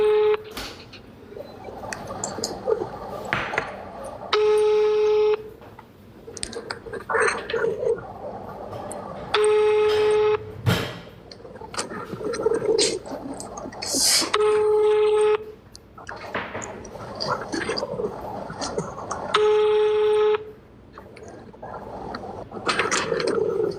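A phone call's ringback tone repeats in steady pulses while an outgoing call goes unanswered, heard over a noisy background with faint talk and rustling in between.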